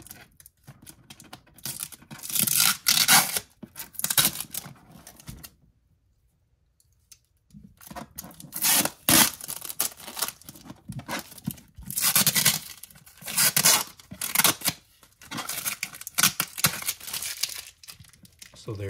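A blade cuts open the bottom of a cardboard Glock 19 Gen 5 box in bursts of scraping, tearing and crinkling, close up, with a quiet pause in the middle before the cutting resumes.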